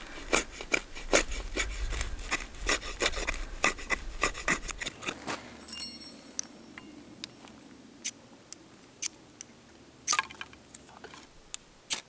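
A knife scrapes against a fire starter in the woods, trying to throw sparks for a fire. Sharp rasping strokes come in quick bursts, then slower, sparser scrapes follow, close and fairly loud.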